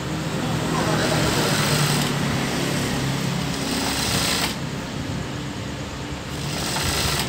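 A sewing machine runs steadily while stitching a brocade tunic, a loud, continuous whir with slight shifts in tone partway through and a voice present alongside it.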